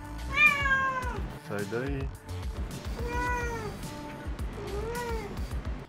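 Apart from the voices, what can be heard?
cat meowing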